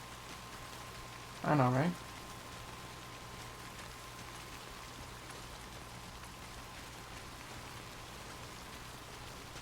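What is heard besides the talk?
rain falling in Death Stranding video game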